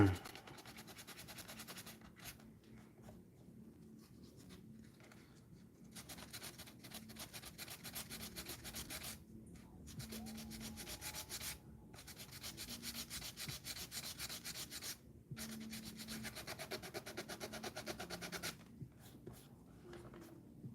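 Steady rasping sanding strokes on resin, close and continuous, with brief pauses between passes and a faint voice speaking underneath.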